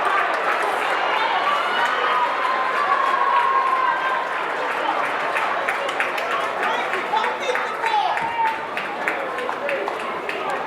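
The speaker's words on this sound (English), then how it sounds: "fans clapping for Sanchez as she will be going out on the stretcher" Basketball fans at a girls' state final game clap steadily for an injured player being taken off on a stretcher, with a broad crowd wash of applause under continuous commentary.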